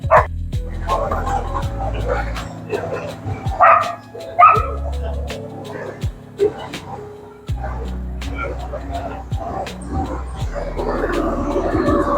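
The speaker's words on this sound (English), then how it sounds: "dogs are going at it." Dogs bark back and forth at each other on a San Diego city street, sharp repeated barks and yips in uneven bursts, fairly close, mixed with people talking nearby.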